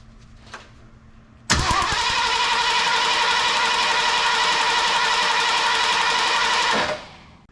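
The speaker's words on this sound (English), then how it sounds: "we're just going to crank this some and see if we can pull fuel up to" A 1974 Ford Bronco engine cranks without catching, distributor wire removed, a loud steady mechanical churn that runs unbroken for about five seconds before cutting off, preceded by quiet.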